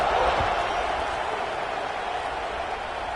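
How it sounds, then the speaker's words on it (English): A football stadium crowd at the Big 12 Championship with Utah buzzes after a score in a dense, steady roar that fills the space without distinct voices or peaks. "this crowd is buzzing after that last score"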